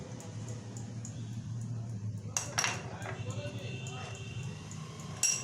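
A spoon or spatula clinks against a pan as fish is mixed with turmeric and salt for tengra macher jhal, with a few sharp metallic taps over steady kitchen background and a voice talking throughout.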